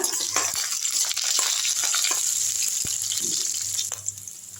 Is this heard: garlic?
yes